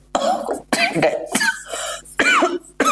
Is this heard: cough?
yes